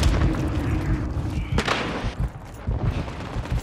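Frag grenade blast and surrounding gunfire in Call of Duty Modern Warfare 3 multiplayer, a dense loud wash of shots and booms with a strong burst near the middle and more thuds after.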